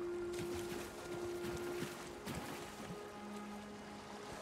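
Steady, soft rushing of a waterfall in Elder Scrolls Online, a continuous wash of water noise with faint tonal game sounds layered over it.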